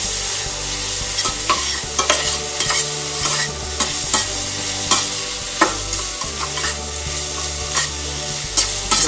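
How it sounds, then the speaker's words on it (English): Seasoned steak and onions sizzle steadily in a pan while a utensil stirs and scrapes, the clattering strokes coming in a loose repeating rhythm close up and loud. "go ahead on and mix that in really good"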